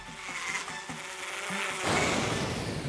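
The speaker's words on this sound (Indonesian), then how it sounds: "Gawat, ada tawon." A wasp buzzes outdoors near a willow tree at a campsite, a thin, wavering drone that pulses irregularly at first and then swells into a louder, denser buzz partway through.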